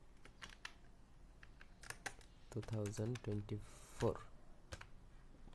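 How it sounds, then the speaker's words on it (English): Keys clatter on a computer keyboard in irregular bursts of clicks while a business thumbnail is being designed, with someone speaking briefly in the middle of the typing. "I'm just typing business idea"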